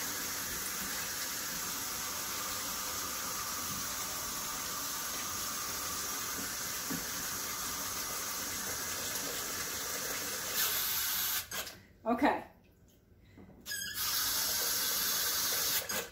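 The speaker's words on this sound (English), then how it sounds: "I'm going to add the water just up as high as the grapes come in the pot" Water pours into a pot of wild muscadine grapes from a tap, a steady hissing stream that runs on for several seconds, briefly breaks off, then resumes; a short spoken word is heard.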